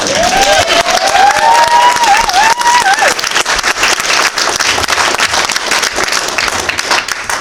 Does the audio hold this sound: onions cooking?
no